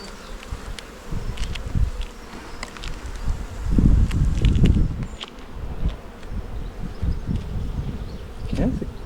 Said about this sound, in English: Okay, that's a good old frame of bees there.